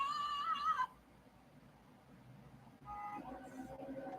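Car horn honks in the video game GTA 4, two short tonal blasts separated by a quiet gap, heard at moderate volume amid faint background noise.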